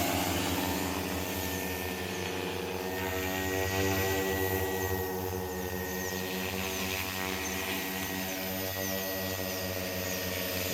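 Loud, steady multi-rotor propeller whine of an agricultural spraying drone over a sugarcane field, with a strong harmonic hum, constant and close throughout.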